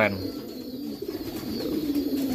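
A calm tomprang racing pigeon coos up close, giving low, throaty, repeated coos in a steady rhythm.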